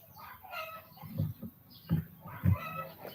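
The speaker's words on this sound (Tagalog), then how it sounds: "Nagtitilaukan na sila." Several roosters calling outdoors in a Philippine neighborhood, a few loud crowing bursts spaced about a second apart over quieter background clucking and ambient noise.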